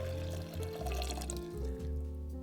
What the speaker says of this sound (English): We're using 250 mils of water that we just boiled. So we're going to pour that over.